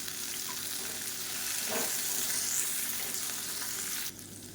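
Small onions and dried red chillies fry with salt for a thokku, giving a steady, moderately loud sizzle with faint stirring, and the sizzle drops away abruptly near the end.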